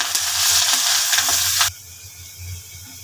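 Chopped onion and chili frying in hot oil with whole cumin, a loud bright sizzle with a few stirring clicks that abruptly drops to a faint low simmer partway through.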